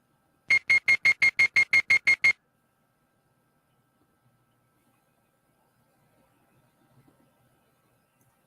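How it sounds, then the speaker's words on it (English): A short alarm-style beep repeats about ten times in a fast, even rhythm for under two seconds, loud and close, then stops and leaves near silence. "So that is just a little 3-second beep"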